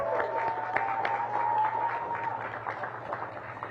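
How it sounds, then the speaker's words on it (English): A gathering at a Washington, DC school applauds its teachers and staff with a moderate, continuous patter of clapping over a low steady hum, and faint voices mingle in the background. "Give them a big round of applause"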